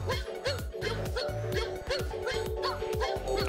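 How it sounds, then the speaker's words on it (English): Cartoonish dog barks from the game Mario Odyssey, repeating in a steady rhythm of short yips over game music, loud and close throughout. "can you pet the dog in Mario Odyssey?"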